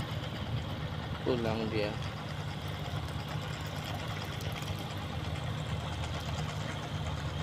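A fishing boat engine drones steadily as the boat heads to the dock at a quiet harbour, a continuous low hum under a man's brief speech.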